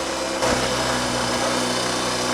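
A Triumph / Royal Enfield Trifield 500 trials motorcycle engine with its clutch and carburation freshly sorted runs close and steady, its note lifting into a higher rev after a brief moment and holding there without any voices.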